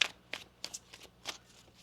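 A deck of tarot cards is shuffled by hand in a quiet room: several quick, crisp riffling bursts in an uneven rhythm, close and fairly soft, with no talking.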